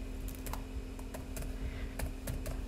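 Typing on a computer keyboard at a desk while setting up a coding project, with a run of sharp, fairly close key clicks in an irregular rhythm over a steady low hum.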